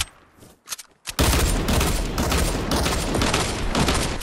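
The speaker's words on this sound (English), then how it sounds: "Yeah, sure, shoot the rocket." A rocket fired in a video game, a sudden heavy blast after a few brief pops, then a loud, sustained roar with crackling that lasts several seconds.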